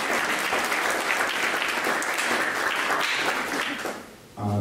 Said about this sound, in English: Give a round of applause to BKE Kombucha.